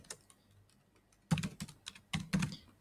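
Keys clatter on a computer keyboard in quiet bursts, light taps early and then two denser, louder runs of typing close by.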